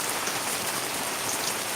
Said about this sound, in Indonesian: Jadi sore ini ada hujan di farm kita.